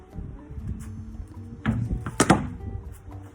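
Cricket bat striking a thrown ball during batting practice: two short, sharp wooden knocks close together about two seconds in, over low outdoor background noise.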